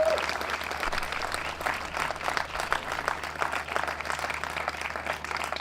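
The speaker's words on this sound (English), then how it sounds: "Give them a round of applause." A crowd applauds steadily at a retirement ceremony, a dense wash of many hands clapping at once that holds at an even level throughout.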